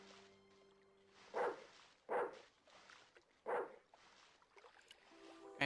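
A dog barks in the point-and-click adventure game Broken Sword 2, three clear, evenly spaced woofs rising over a quiet backdrop of game music and a faint stream.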